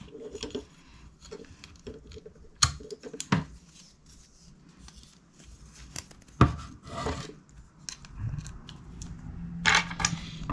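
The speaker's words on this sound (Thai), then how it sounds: "นี่ในชุดของเฟรมมันก็จะมีชุดพลาสติกเป็นขา เนี่ยฮะ เป็นขาค้ำ ก็จะร้อยน็อตลงไปในนี้" Screws threaded into plastic support legs of an ImpulseRC APEX 5 drone frame during assembly: close irregular scraping, rubbing and clicking handling noises with occasional sharper knocks, no speech.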